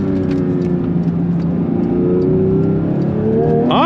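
A 2023 Porsche 911 GT3 Touring with six-speed manual revs loudly and steadily close by on throttle, its engine note climbing sharply at the end.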